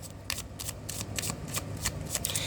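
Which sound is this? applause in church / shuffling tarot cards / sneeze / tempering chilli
shuffling tarot cards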